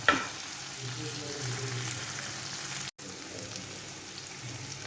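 Pork sautéing in a pan with salt gives a continuous close sizzle and crackle, steady throughout, with one brief cut partway.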